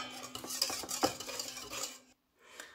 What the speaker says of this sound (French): je rajoute les graines de fenouil, bien mélanger